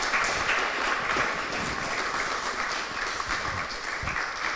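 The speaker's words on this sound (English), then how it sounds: "Let's give a round of applause." Audience clapping at the end of a talk, a dense continuous wash of applause from a sizable crowd holding steady and fairly full throughout, with no voices over it.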